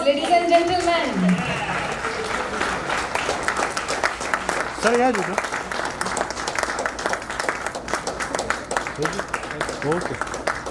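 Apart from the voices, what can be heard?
applause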